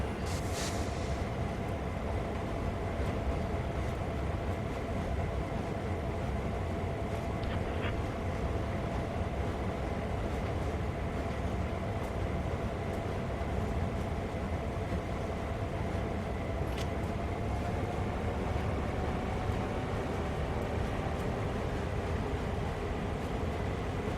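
A diesel locomotive hauls a freight train over the Sand Patch grade in Train Sim World 2, a steady low engine rumble with a faint sustained tonal whine and occasional soft clanks, with no talk.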